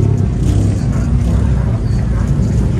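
A Toyota Supra's engine rumbles steadily at a car meet, a low, continuous drone held close throughout with no clear revving, while people chatter in the background.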